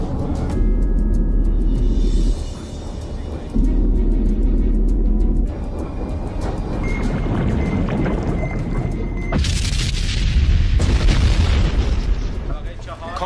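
Torpedoes explode against underwater canyon walls in an action movie battle, with deep booming blasts, rumbling and rushing water-like noise that swells loud and dense, under tense talk.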